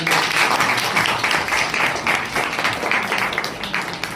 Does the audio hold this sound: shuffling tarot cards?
no